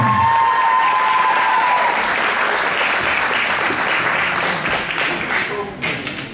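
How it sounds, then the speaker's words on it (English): Loud sustained applause from a crowd at a youth MMA event fills the space, fading toward the end, with a voice speaking briefly at the start. "Let's have a big round of applause for his opponent, Moose Hudson Jr."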